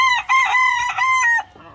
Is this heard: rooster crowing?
yes